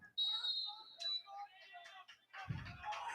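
A referee's whistle sounds at a boys' varsity lacrosse game, one sharp high blast followed by fainter tones, with crowd noise and a commentator's voice around it.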